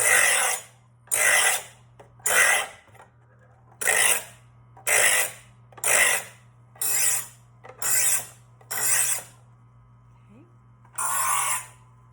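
A metal file rasps across metal in about ten steady, evenly spaced strokes, close and loud, with a short pause before one last stroke and no talking.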